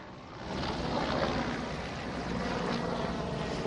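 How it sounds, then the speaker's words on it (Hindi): The Prime Minister's helicopter arrives in the Manjari area of Pune, its steady, loud rotor and engine roar filling the air with no break. "प्रधानमंत्री नरेंद्र मोदी यहाँ पुणे के मांझी इलाके में उनका चॉपर पहुंच चुका है"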